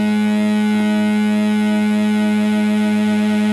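An Analogue Solutions Telemark analog synthesizer holds a steady, buzzy, harmonically rich tone with pulse width modulation, sustained and loud without a break.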